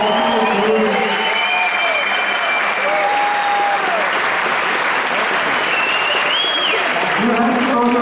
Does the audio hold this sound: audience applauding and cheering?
yes